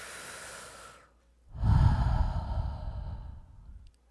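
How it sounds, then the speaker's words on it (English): A deep human breath, a short exhale fading out, then after a pause a long, close, loud inhale-exhale with a rough airy rush. "Maybe it's just breathing, taking that deep breath."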